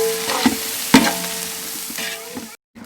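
Curry leaves and capsicum sizzling steadily in oil in a frying pan with a few sharp stirring clinks, loud and close, before the sound cuts off abruptly.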